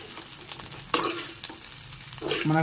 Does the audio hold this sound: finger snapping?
no